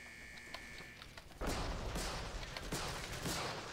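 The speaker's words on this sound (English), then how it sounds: "Like that, those rifle shots, they're okay." Rifle shots in Call of Duty: United Offensive, a sudden loud burst of gunfire after a quieter start, followed by several more sharp cracks spaced about half a second apart over a busy battle din.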